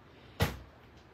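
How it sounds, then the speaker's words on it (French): A door shuts from the weather with a single short muffled thud, heard indoors, followed by quiet room tone. "ma porte vient de fermer à cause du temps"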